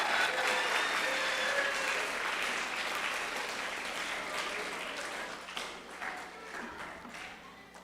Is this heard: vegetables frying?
no